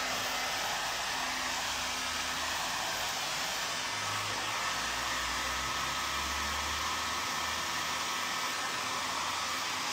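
A hair dryer runs continuously, drying paint on a shabby chic candle holder, a loud, constant whooshing roar with no pauses or voices.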